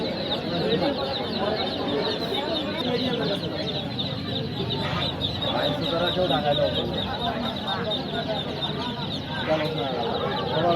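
Chickens and chicks cluck and peep without pause at a busy poultry market selling hens and ducklings, a dense, steady chorus of close birds mixed with faint voices and crowd noise.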